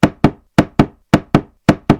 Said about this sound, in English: you answer the door before people knock